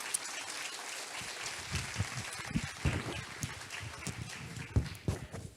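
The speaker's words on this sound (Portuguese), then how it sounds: "Aplaude Ele, por isso aplaude." An audience applauds at a church service, a sustained wash of clapping with irregular louder claps, moderately distant and without talk.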